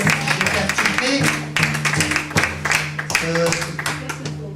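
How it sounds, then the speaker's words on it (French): An audience claps at a live stage event, a busy, loud spread of many hands under music-like tones and chatter, steady for several seconds. "On peut l'applaudir."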